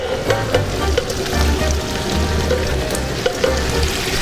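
Prawns and freshly added pasta sizzle in a frying pan with a continuous crackling hiss and low pan rumble, close and fairly loud, without any talking.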